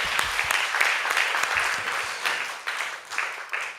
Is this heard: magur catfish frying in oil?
no